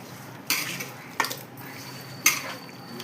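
Mutton being tossed with salt in a metal pot while preparing Kongunadu white biryani, three distinct clattering scrapes of spoon against the vessel spaced apart, close and moderately loud with no talk.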